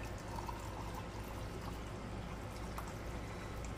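Liquid, likely syrup, being poured into a cup of coffee, a soft steady trickle that runs continuously and quietly throughout, with no talking.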